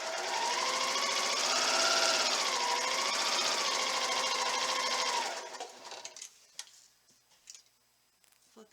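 A sewing machine stitches quilt fabric pieces with a steady, fast whirring hum for about five seconds, then stops, leaving faint clicks and fabric handling noises close by.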